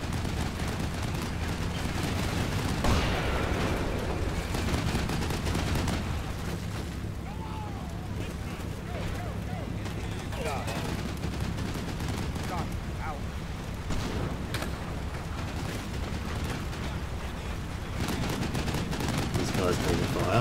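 Gunfire and explosions in the wargame Combat Mission Cold War, sustained rumbling bursts and booms at a distance under a steady battle din, with a voice talking over it.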